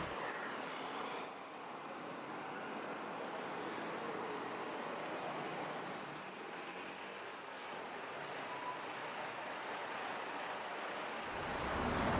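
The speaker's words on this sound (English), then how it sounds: "I got back onto a bus, and this is an air-conditioned bus, so it's nice and cool" Inside an air-conditioned city bus in Bangkok, a steady low rumble of the engine and a constant hiss of cooling air fill the cabin, with a faint high squeal of brakes partway through and the engine swelling at the end.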